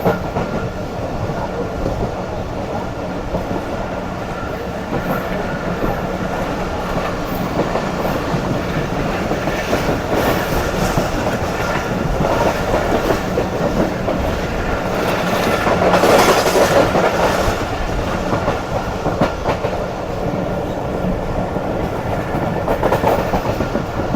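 The Karakoram Express, a fast train, runs through Nawabshah railway station without stopping, its steady rumble and clickety-clack of wheels continuing close by, swelling slightly in the middle.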